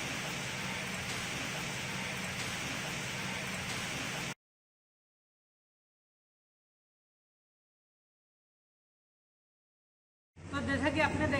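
Steady rain hisses as a broad, even wash during a roadside stop on a highway delivery run, cutting out to a long silence before returning briefly at the end.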